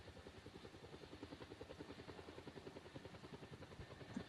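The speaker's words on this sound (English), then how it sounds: "That's a helicopter can fly you around." A video-game helicopter flies on, its rotor chopping in a fast, even pulse of soft thumps that holds steady throughout, heard alone without talk.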